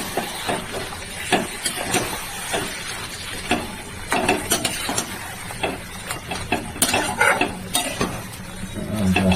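Chicken curry with yogurt being stirred and sautéed in a pan, giving close, uneven scraping and clattering spoon strokes over a continuous background sizzle.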